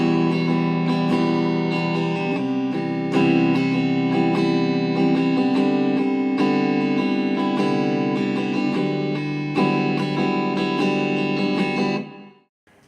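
Clean electric guitar plays a dense, ringing chord pattern from a song's intro, steady strummed chords sustaining throughout with effects-laden shimmer, alone and then cutting off abruptly at the end.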